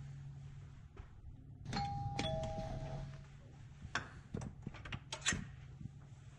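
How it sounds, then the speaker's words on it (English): A doorbell chimes with a two-tone ding-dong, followed by scattered knocks and clatter nearby in a quiet room. "that is the sound that the doorbell makes"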